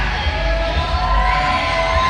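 A wrestling crowd cheering a new heavyweight champion, a loud, dense roar of many voices with yells and whoops blended together, sustained at a steady level throughout.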